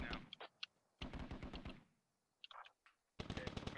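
An MTLB armored vehicle's mounted gun fires in the Squad video game, distant rapid bursts in two or three rattling strings separated by short pauses, fairly faint.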